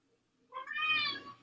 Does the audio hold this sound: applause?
no